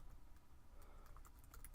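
Soft clicking of typing on a computer keyboard, a quick run of light keystrokes, faint and close with no talking.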